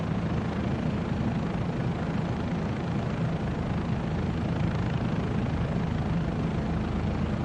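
A Bell 407 helicopter in Microsoft Flight Simulator 2024 drones steadily from the cabin, its engine and rotor making a continuous low hum with no pauses or voices.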